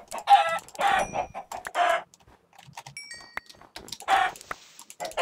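Chickens in the video game Minecraft cluck in repeated bursts, several birds close by with short gaps of quiet between calls.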